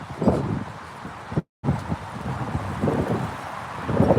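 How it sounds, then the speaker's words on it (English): Strong wind outdoors rushes and buffets the microphone steadily, with a momentary dropout partway through before the gusting resumes. "It's windy out here today."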